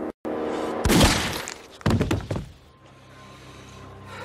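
A double-trigger black powder coach gun fires a reinforced cartridge, two heavy, booming blasts about a second apart, close and loud, each trailing off into a fading rumble.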